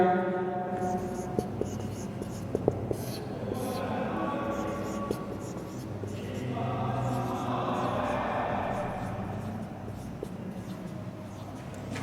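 A pen writes out an answer in English, with faint scratching strokes and light taps running through a quiet room while a voice speaks at times.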